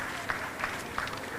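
A conference audience at a Bitcoin event in El Salvador gives a short burst of applause, a brief patter of many hands with a few sharper claps standing out.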